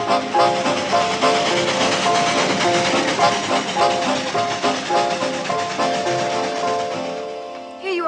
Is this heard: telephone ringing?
no